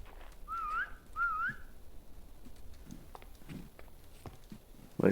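Two short rising whistle blasts in quick succession in the video game The Crafting Dead, followed by soft footsteps and light movement sounds in a quiet space.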